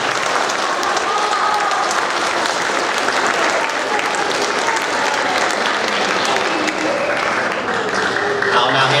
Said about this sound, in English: One last round of applause for our most considered.